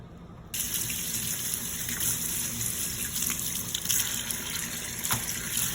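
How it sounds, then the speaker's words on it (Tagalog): Tap water runs steadily over a raw steak in a kitchen sink for a home-cooked meal, starting with a brief quiet moment and then turning into a continuous, close gushing stream with small splashy variations. "hugasan na po natin ang steak"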